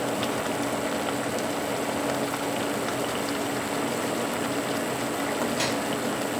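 Bacon fat rendering as pork belly simmers in water for a PBLT, giving a steady, close, even bubbling hiss with no talk over it.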